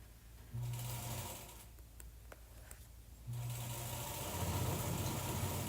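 A sewing machine runs quietly in two short stitching bursts, with a soft, steady motor whir between them.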